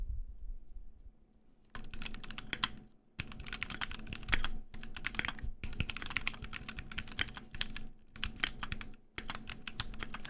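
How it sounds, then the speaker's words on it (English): Rapid keystrokes clatter across a computer keyboard in several bursts separated by brief pauses, moderately close and alone with no talking. "I start typing something actually"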